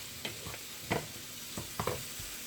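Food sautéing in a pan while two spoons stir it, with a soft steady sizzle under several distinct scraping strokes of the spoons against the pan, close and fairly quiet with no voices.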